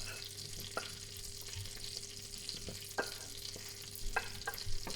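Green peas fry in butter in a pan that was just used for leeks. A soft, even sizzle runs continuously, broken by occasional sharp taps and scrapes of a utensil against the pan. No one speaks.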